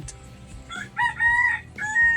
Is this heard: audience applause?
no